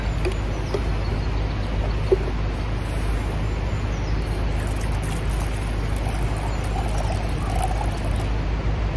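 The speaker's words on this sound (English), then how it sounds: "Put some water in it." Water pours into a pot at a riverside camp for heating soup, a steady splashing wash running about nine seconds at close range, with outdoor ambience behind it and no talk.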